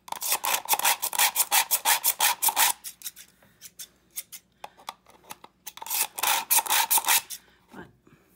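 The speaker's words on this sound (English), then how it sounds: "Okay, found my scissor sharpener." A scissor sharpener rasps along scissor blades in quick rhythmic strokes, a fast run of about a dozen pulls, a pause with scattered clicks, then another burst of strokes, close and crisp.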